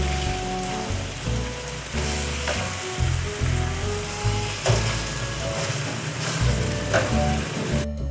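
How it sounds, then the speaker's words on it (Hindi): Pieces of fish dropped into hot spiced karahi masala with green onion, crackling in a dense, rain-like sizzle with stirring bursts, close and steady, with no one talking. "मसालों के बाद हम इसमें फ़िश ऐड कर रहे हैं।"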